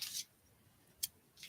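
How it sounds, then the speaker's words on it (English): Scissors cut a paper card sentiment down to size in two quick close snips, one at the start and one just past a second, with a quiet pause between. "We're gonna cut this down real quick."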